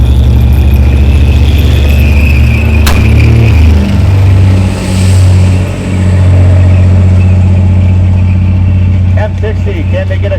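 An M60 tank charges across the ground during a staged one-on-one tank battle at the Canadian Tank Museum, its heavy engine rumbling loud and close throughout, with a voice talking over it.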